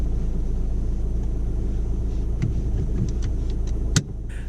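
Car engine rumbling steadily during a driving test as the vehicle prepares to move off, a close, constant low drone with a few light clicks and a brief knock near the end.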